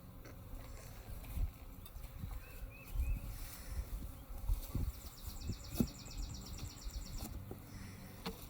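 Honey bees drone and buzz around an open beehive as its top is lifted off, a close, steady swarm hum with scattered louder passes of individual bees.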